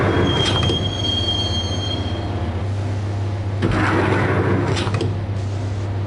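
Subway train in the Max Payne PS2 game riding the rails toward Roscoe Street Station, a steady low rumble with high metallic wheel squeals and bursts of rattling, loud and close with no talk.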